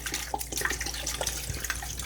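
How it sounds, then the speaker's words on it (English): Water pours steadily into a pot of chicken broth, a continuous close splashing and gurgling with small irregular drips and bubbles. "Now I'm just going to add some water to mix with that."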